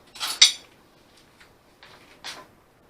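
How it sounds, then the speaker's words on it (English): A spoon scoops basil pesto for a taste, giving a couple of quick metallic clinks and scrapes against a bowl. Softer taps follow in a quiet kitchen. "Grab a spoon, give it a little taste."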